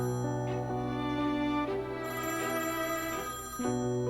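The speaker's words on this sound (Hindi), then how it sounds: "मेरा फोन बज रहा है।" A mobile phone ringtone plays loudly and continuously, a repeating melodic tune with sustained tones and no voices over it.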